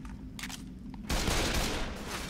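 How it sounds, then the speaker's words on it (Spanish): Pistol gunfire in the video game Left 4 Dead 2 on Xbox One sounds as a few scattered shots, followed by a loud, dense burst of continuous gunfire and noise. The shots are close and loud. "Tiene que darle unos cuantos balazos, por lo menos de pistola."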